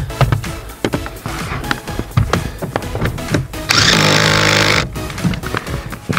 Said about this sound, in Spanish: y ya nada más apretamos nuestro tornillo.